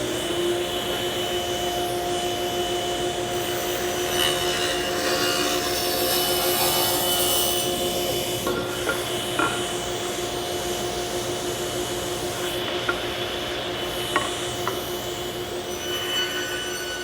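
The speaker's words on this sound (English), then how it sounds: "I'm going to make all kinds of these 3/8 inch strips" A table saw rips 3/8 inch wengé strips, giving a steady loud whine with a broadband cutting roar and small knocks scattered through.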